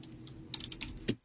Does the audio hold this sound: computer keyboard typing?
yes